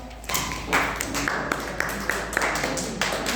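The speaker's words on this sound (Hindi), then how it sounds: "चलो इसके लिए तालियां बजाओ।" Class 10 science students clapping in a classroom, a steady run of scattered hand claps at moderate level with sharp individual claps standing out over room noise.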